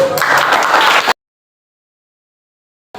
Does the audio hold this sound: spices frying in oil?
no